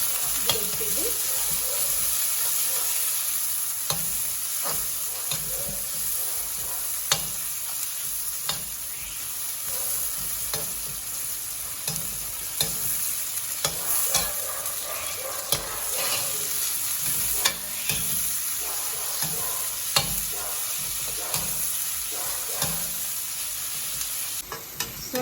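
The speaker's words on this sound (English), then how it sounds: "I will saute the vegetables" Vegetables sautéing in a hot pan for pasta, a steady loud sizzle and crackle lasting throughout with frequent scraping stirs, no talking.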